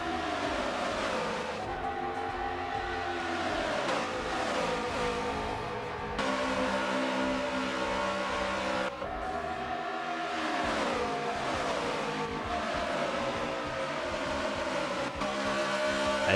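Race cars at speed at Homestead Miami Speedway in the PPRL All Star Race, a loud continuous engine roar with repeated rising and falling pitch sweeps as cars pass, no talk over it.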